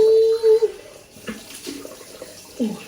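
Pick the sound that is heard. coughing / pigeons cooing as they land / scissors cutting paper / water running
water running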